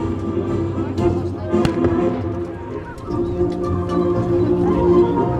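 Cannons fire canister shot at a Borodino battle reenactment: a few sharp, distant bangs over continuous battlefield noise and background voices.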